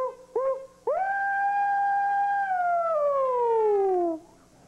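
A voice imitates a distress holler: two short whoops, then one long, sustained wail that slowly slides downward before stopping.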